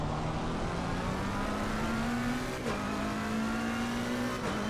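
Race car engine in Assetto Corsa Competizione at Donington Park, droning steadily at high revs as it accelerates, pitch climbing with brief dips at gear changes, loud and continuous with no talk.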